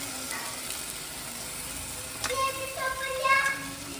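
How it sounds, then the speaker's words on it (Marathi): Crab fat frying in a pan at an outdoor Konkan cooking spot, a steady hiss and sizzle throughout with a few stirring scrapes and faint voices in the background. "आता टाकायचं आहे फॅट. खेकड्याचं फॅट टाकायचं आहे आता."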